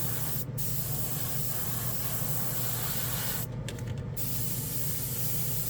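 A Testors airbrush sprays in a steady, continuous hiss that holds for the whole stretch, with a couple of brief sputtering breaks as the nozzle catches, close and alone with no talking.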